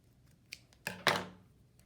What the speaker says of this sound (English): And then you will snip off the excess thread.